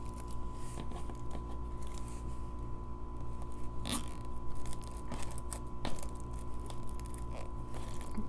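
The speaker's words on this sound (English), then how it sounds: "I'm only going to use a 4-inch zip tie for this." A small 4-inch plastic zip tie is pulled tight around bunched material on a sunflower wreath form, giving quiet, scattered ratcheting clicks close by with no talk.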